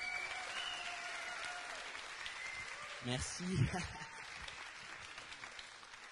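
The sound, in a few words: audience applauding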